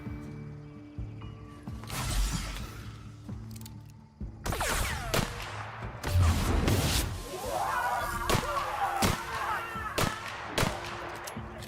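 Gunfire rings out in the video game The Outer Worlds, with sharp shots, whooshes and impacts over layered game music and effects, moderately loud and busy throughout.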